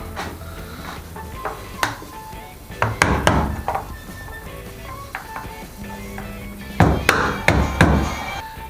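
Several sharp taps and knocks of a hammer on a hard refrigerator part while swapping the door side, irregular and close, with two clustered strikes near the end; no speech.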